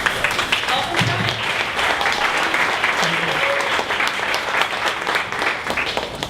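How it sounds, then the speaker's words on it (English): A standing audience gives a loud, sustained ovation at a 1 Million Cups Dallas pitch event, dense clapping filling the room steadily from start to finish with a faint murmur of voices beneath. "So everyone please stand up with a big round of applause."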